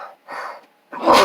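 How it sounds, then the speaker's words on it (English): A person sneezes twice in quick succession, two short bursts close to the microphone, then a louder, broader blast of breath at the end, with no talking. "I had to sneeze."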